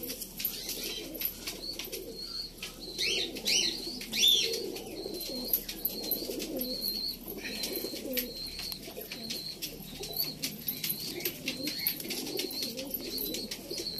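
Lambadi breed pigeons coo repeatedly in a loft, low rolling calls overlapping at a moderate distance, with faint chirps and rustling in the background.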